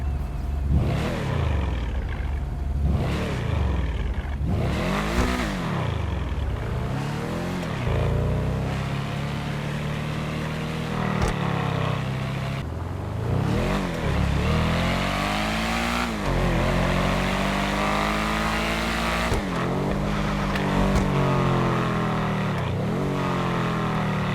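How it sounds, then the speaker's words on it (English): A car engine in the video game GTA Online revs up and down repeatedly, with rising and falling whines and growling, lion-like deceleration, loud and close throughout. "when I decelerate from revving the car, you can hear like a lion growling"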